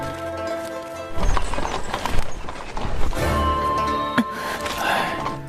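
Horse hooves pulling a carriage clip-clop in a steady rhythm at close range, with a whinny or snort from the horse mixed in.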